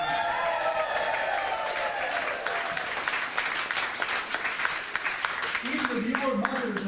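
A debate audience bursts into sustained applause and cheering, a dense steady wash of clapping held at even loudness throughout, with voices mixed into the crowd noise.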